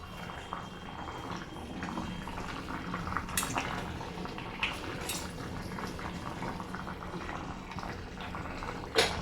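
Rice and masala for a soya chunks pulao boil in an open pressure cooker, a steady, close bubbling and gurgling throughout, with a few light clinks of a spoon or lid.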